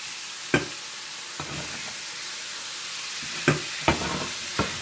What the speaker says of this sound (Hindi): और इन्हें भी आप थोड़ा सा भून लें।